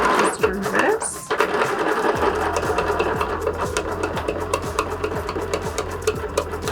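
A sewing machine runs a regular straight stitch on a zipper purse, a close, steady rhythmic chugging of the needle that continues without a break while a person talks over it.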